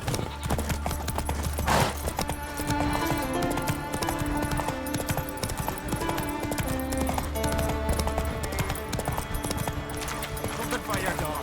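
Hooves pound in a fast continuous gallop as Roach runs in The Witcher 3, loud and near, with brief spoken lines and music layered over the rhythm.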